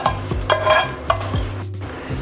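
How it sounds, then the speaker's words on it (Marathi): Vermicelli (shevai) being dry-roasted in a pan, with repeated close spatula scrapes and stirring over a low sizzle, no voices. "आपल्या शेवया भाजून झालेल्या आहेत"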